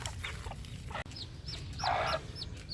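Chickens and chicks close by, with soft clucks and high, rising peeps repeating in quick succession over a low background rumble.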